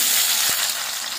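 Salted bitter gourd pieces frying in a pan, a steady close hiss of sizzling oil with a single soft thump partway through.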